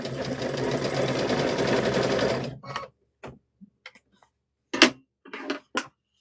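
A sewing machine runs steadily for a couple of seconds stitching a hummingbird and butterfly quilt block, then stops; a few soft clicks and handling sounds follow in the quiet afterward.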